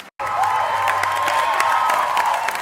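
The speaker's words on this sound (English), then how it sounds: "I couldn't hear it over the crowd." Loud, steady crowd roar with cheering and whoops from an audience, filling the whole stretch after a brief silence at the start, with no clear speech heard over it.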